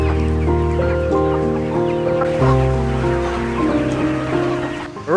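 Chickens clucking inside a large farm chicken house holding thousands of birds, a dense overlapping chorus of clucks and calls, close and continuous, with a sharper burst at the end.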